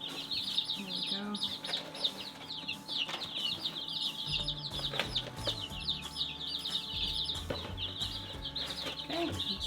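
Baby chicks, Freedom Ranger birds, peep continuously in a high, busy chorus close by while being set up in their brooder, with occasional thumps and handling noises underneath.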